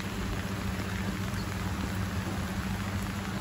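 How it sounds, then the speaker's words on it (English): Heavy June rain falling steadily on a garden in early winter, a dense, unbroken hiss with fine patter, loud and close, with no voices over it. "Well, it's raining again."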